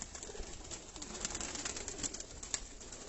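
Breeder pigeons coo softly inside a loft belonging to a pigeon keeper from Nowshera Virkan, faint throaty calls repeating over low background noise without voices.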